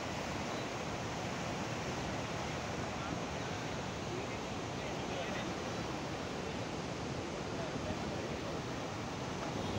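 Water pours through eight opened gates of the Lower Manair Dam in Karimnagar, a steady, dense, unbroken roar of rushing water with no pauses or voices.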